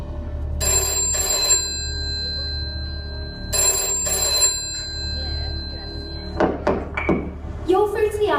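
A telephone rings twice at Brainiac HQ, each bright double-burst ring repeating with a pause between, followed by a few thuds and a voice starting to talk at the end.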